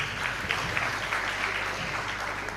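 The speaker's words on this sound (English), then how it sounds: "Applaud yourselves once again." Audience applause in a hall at a panel event on urban planning and public spaces, a steady moderate wash of clapping with faint voices mixed in, heard at some distance.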